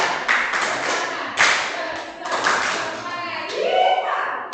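Elementary schoolchildren in a classroom perform a rhythmic group clapping routine in loud, repeated bursts, with children's voices chanting and talking throughout.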